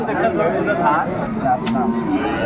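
Dairy cows and calves at a rural cattle market in Dinajpur give low moos amid constant loud crowd chatter and nearby voices talking.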